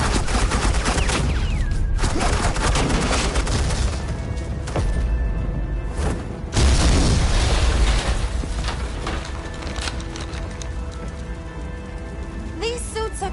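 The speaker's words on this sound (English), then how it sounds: "Suppressing fire." Suppressing gunfire in an animated Batman episode, sustained rattling automatic fire with crackling impacts, loud and continuous with short breaks.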